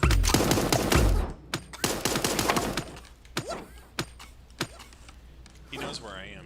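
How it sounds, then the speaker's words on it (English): Gunfire in Super Animal Royale opens with a rapid burst, then sharp single shots ring out at uneven gaps, loud and close, with creaking mechanical sounds between them. "Somebody shooting."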